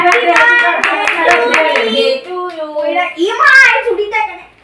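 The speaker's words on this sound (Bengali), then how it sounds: "হাততালি তো দেন কমসে কম" A few sharp hand claps at a 17th birthday celebration at home, loud and close, mixed with voices singing and someone talking over them.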